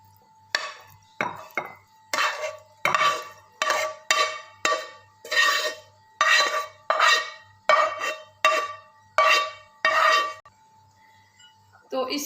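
A spoon scrapes cooked minced meat (keema) out of a cooking vessel into a pot, making about a dozen evenly spaced, close metallic scrapes and clinks with a short pause before the last one.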